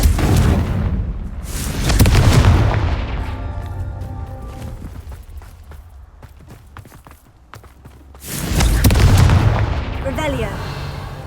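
A Confringo blasting curse goes off in Hogwarts Legacy, giving two heavy, rumbling explosions several seconds apart, each booming loudly before trailing off into quieter game ambience.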